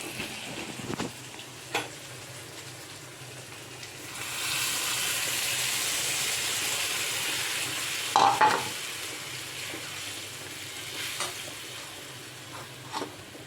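Potatoes and tomatoes fry in a pan with a steady, moderate sizzle. Brief stirring scrapes and clatters break through it now and then. No voices are heard.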